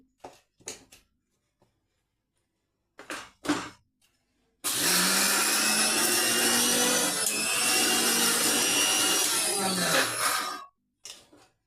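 A kitchen mixer grinder churns idli and dosa batter in one loud continuous whirring burst of about six seconds, framed by short clinks and knocks before and after.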